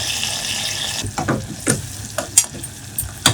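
Garlic and tomatoes fry in sesame oil, giving a soft sizzle beneath several stirring scrapes and knocks of a utensil against the pan, close up and without speech.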